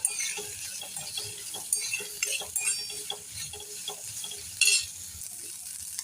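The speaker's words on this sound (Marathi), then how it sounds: "यामध्ये लागलीच आपण टोमॅटो सुद्धा घालून घेऊया आणि तो परतून घेऊया छान." Tomatoes sautéing in a hot pan for a hotel-style paneer mutter, with a steady sizzle and repeated scrapes and clinks of a spoon stirring against the metal, heard close and alone without talk.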